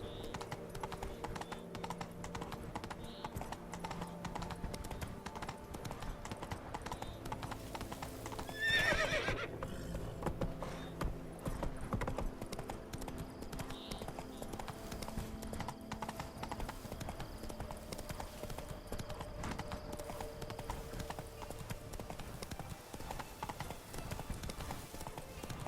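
Roach, Geralt's horse in The Witcher 3 on PS4, gallops with a steady clip-clop of hooves and lets out a neigh midway, all under a dense layer of game ambience.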